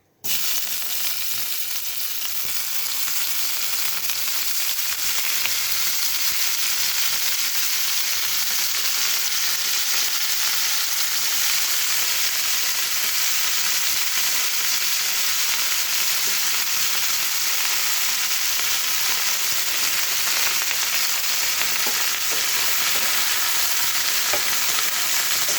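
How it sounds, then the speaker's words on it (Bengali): Cauliflower frying in oil in a pan, a steady, close and loud sizzle that runs without a break for the whole stretch, with no voices over it. "এখন আমি ফুলকপিগুলো ভেজে নিই"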